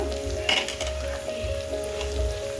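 Beans fry in a pan for North Karnataka-style Sankranti cooking, with a low, steady sizzle and light stirring scrapes close by. A constant hum runs underneath.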